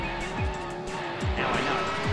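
Video game race cars in Speed Freaks skid with sharp, repeated tire squeals over a steady engine drone, several slides following one another in quick succession, loud and close with no talk.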